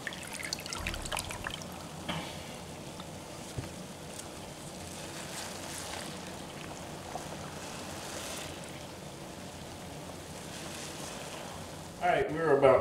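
Homemade grape wine must on its fourth day of vigorous fermentation being stirred, a steady wet sloshing and trickling churn running throughout at close range, with a louder splashy burst near the end.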